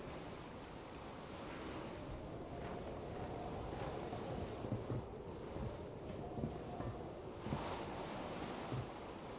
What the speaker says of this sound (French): Oh, ce vent.